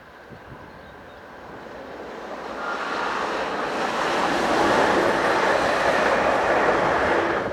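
A Class 380 electric train, unit 380-108, on a Glasgow to Ayr service approaches and passes on the coastal line with a rising rush of wheel and rail noise. It swells and holds loud with no voices.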